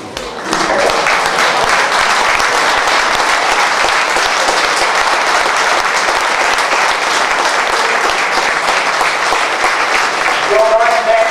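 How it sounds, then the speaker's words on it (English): A hall of fame ceremony audience gives race car drivers a loud, sustained round of applause, dense clapping filling the room steadily for about eleven seconds. "so that we can give you folks a round of applause"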